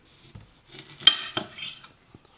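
A dull kitchen knife cuts fresh lemons into quarters on a board, making a few close, soft chopping knocks and one sharper clack against the surface, with quiet pauses in between.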